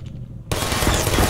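Burst of rapid automatic fire from a sentry turret in the Portal video game, erupting suddenly after a quiet moment and continuing loud and close to the end.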